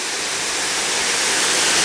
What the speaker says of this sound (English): this great waterfall here coming off of Prairie Creek